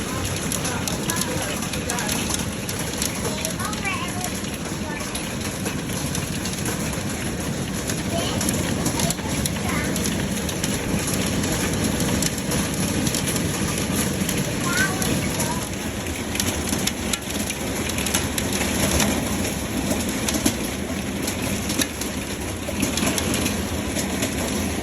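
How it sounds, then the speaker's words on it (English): Steady rain with hail pelting down during a storm at a Lake Mackenzie campsite, a dense continuous wash of drops drumming on surfaces throughout, with birds calling faintly and some talk underneath. "We ended up rain and hail and even a tornado"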